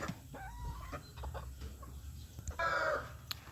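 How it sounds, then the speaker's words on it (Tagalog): Darag native chickens and roosters cluck and call in a backyard range house, a few short bursts close by with a louder squawk near the end. "Tapos meron akong 3 rooster na darag."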